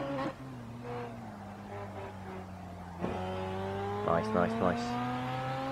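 An RX7 race car in Assetto Corsa holds a steady high-RPM engine drone while running the Mount Akina touge, a continuous buzzing tone with brief spoken comments layered over it near the end.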